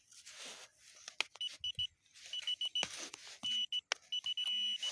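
Short, high electronic beeps from a Minelab metal detector pinpointer, repeating in quick bursts and longer tones, with scraping and handling noises between them.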